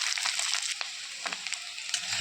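Parboiled potatoes fry in oil with a close, moderate sizzle, broken by a few sharp ticks and crackles as the pieces shift; no one speaks.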